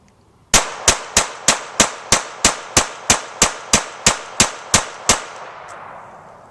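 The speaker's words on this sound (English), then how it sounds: "The first of the 3 magazines that didn't fire so well." A Taurus TX22 pistol fires fourteen evenly spaced shots in a rapid, steady string, each report sharp and close, with the last echo trailing off into quiet.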